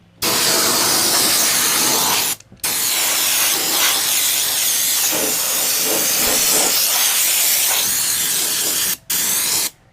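Fluid Film aerosol sprays in long, loud, steady hissing bursts onto the underbody of a Ram truck, close to the can, broken by two brief pauses.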